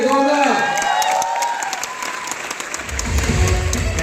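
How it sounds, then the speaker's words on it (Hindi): An audience claps and cheers loudly at a speaking event, the dense applause tapering off over a few seconds as a low rumble of movement takes over. "एक बार जोरदार तालियां"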